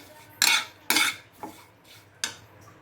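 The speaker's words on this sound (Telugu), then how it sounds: "ఇవి కొంచెం కలిసేలాగా గరిటతో కలుపుకోవాలి." Potatoes fried with salt, chili powder and a little turmeric are stirred with a ladle in a frying pan, making four sharp metallic scraping clanks at uneven intervals, loud and close.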